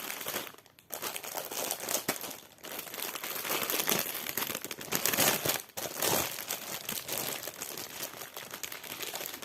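Plastic packaging of a cross-stitch kit parcel crinkles and rustles close up as it is opened, a dense continuous crackle with brief pauses and no talk.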